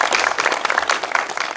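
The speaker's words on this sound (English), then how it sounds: "Let's give them all another round of applause." Audience applause at a school senior reflections ceremony, a full burst of many people clapping together, loud and continuous throughout the short stretch.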